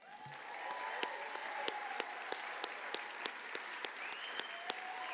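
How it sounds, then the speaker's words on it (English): Steady applause from an audience at a justice awards ceremony, honoring hotel wait staff; dense, even clapping of moderate loudness holds through the whole stretch with no speech over it. "please give a round of applause to the hotel wait staff"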